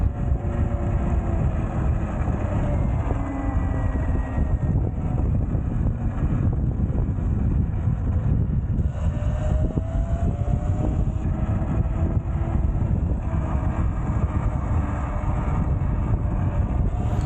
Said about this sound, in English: Just listen to the wind and the motor winding on this downhill.